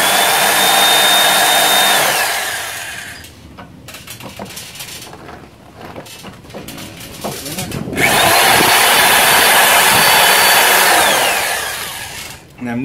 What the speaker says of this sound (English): I'm going to pre-drill a couple holes